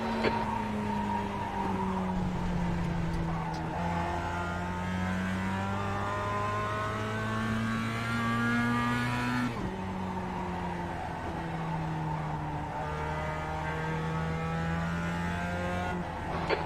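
Race car engines in a racing video game drone steadily for the whole stretch, with overlapping revving tones that climb and drop through gear changes, no voices present.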